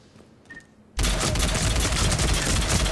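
The Phaeston assault rifle in Mass Effect 3 opens up on full auto after a second of near quiet, a loud continuous burst of rapid gunfire that fills the rest of the moment.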